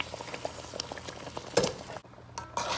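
Pork in red salsa simmering in a pan just after the sauce goes in, a bubbling, sizzling patter with a few stirring scrapes and a brief pause, close and without talk.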